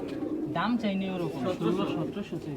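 Pigeons cooing at a busy pigeon market in Bangladesh, soft throaty coos up close with someone talking over them.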